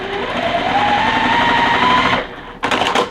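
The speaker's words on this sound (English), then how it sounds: "I'm still sewing slightly on the inside of the line" A sewing machine stitches pieced quilt fabric in one fast, steady whirring run, then stops briefly before a short final burst, loud and close with no talking.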